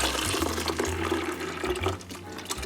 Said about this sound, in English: Now we're gonna go ahead and pour our ice cream mix into the